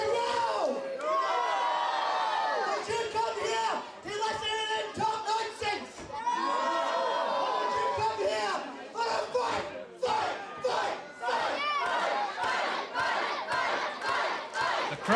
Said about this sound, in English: Crowd here definitely want to see a fight.